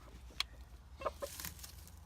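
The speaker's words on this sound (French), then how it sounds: "à l'intérieur il y a le coq et ma poule noire qui découvre gentiment" Rooster and hen clucking inside a new henhouse, with a few short, faint clucks spaced out against a quiet room.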